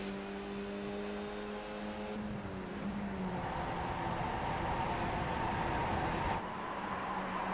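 Skip Barber race car in the iRacing simulator at Watkins Glen, engine tone holding steady then dropping as it goes through a corner, followed by a rougher, broadband roar under acceleration, fairly faint with no talk.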